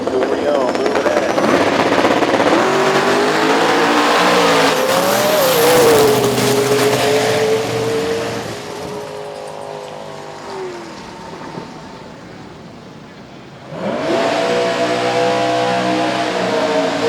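A 1999 Camaro and a 1993 Mustang drag race in a radial-tire qualifying event, with loud engine roar rising and revving, tire squeal, and a second surge of engines later, all under an announcer's commentary.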